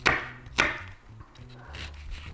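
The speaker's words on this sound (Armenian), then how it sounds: "Ստեղ նորեն կտրատում ենք։" Greens being chopped with a knife on a cutting board while preparing rice and spinach pilaf: two sharp, close knife strikes followed by quieter scraping and rubbing on the board.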